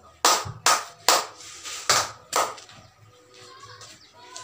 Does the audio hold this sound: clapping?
yes